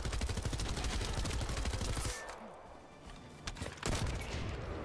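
Rapid automatic gunfire from a gun in The First Descendant video game, a dense burst of loud repeated shots that cuts off abruptly, followed by quieter rumbling and a final short burst.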